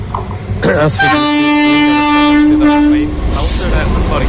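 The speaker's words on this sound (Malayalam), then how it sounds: "പക്ഷെ ആ ട്രെയിൻ നമ്മൾ പ്രതീക്ഷിച്ചതുപോലെ എന്നല്ല. അതായത് പാസഞ്ചർ ട്രെയിനല്ല, എന്താണ് SRBC ഗുഡ്സ് ട്രെയിനാണ്." A goods train at Thiruvananthapuram South sounds a loud, sustained horn blast of about two seconds over a steady rumble of rail noise.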